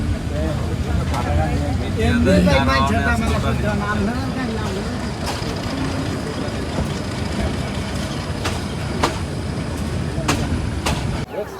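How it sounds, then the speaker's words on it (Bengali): A train rumbles and rattles continuously as it pulls into Kaoraid railway station on a run out of Dhaka, heard from inside a carriage, with sharp clanks and a voice talking early on. "ঢাকা থেকে ছেড়ে আমাদের গাড়ি এই মুহূর্তে চলে আসছে কাউরাইত রেলওয়ে স্টেশন"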